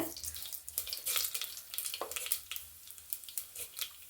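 Mustard seeds, chana dal and cumin spluttering in a couple of spoons of hot oil, with close crackling and sizzling in irregular bursts and sharp pops throughout, no voices.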